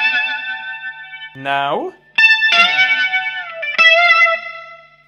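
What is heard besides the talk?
electric guitar solo with distortion and delay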